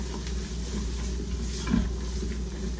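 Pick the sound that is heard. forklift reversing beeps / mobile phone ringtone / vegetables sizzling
vegetables sizzling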